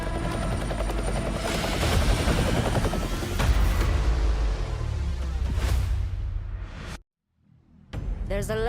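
Helicopter arriving for extraction in the Call of Duty: Mobile battle royale, rotor thumping loud and close with some booms over it, then cutting off abruptly into brief silence before other game sounds return.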